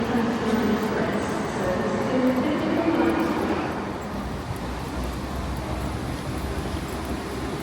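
A Carlisle express train arrives at a station platform on the line after Skipton, with a loud, continuous low rumble that eases slightly partway through. People are talking nearby over the noise.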